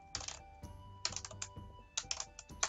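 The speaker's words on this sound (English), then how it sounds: "So many problems typing right now." Computer keyboard typing comes in short, close bursts of quick key clicks, separated by brief pauses, fairly quiet with no voices.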